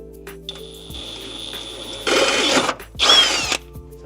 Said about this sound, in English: So that's a 7/16 drill bit for anyone that's wondering.